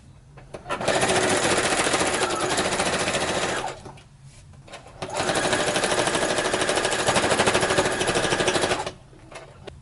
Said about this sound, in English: 1/2 inch seam allowance, zigzag stitch all the way around.